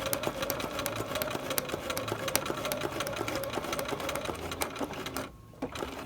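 A sewing machine does free-motion quilting on a trapunto piece with a darning foot, a steady close rapid stitching hum that runs without break and drops out briefly near the end.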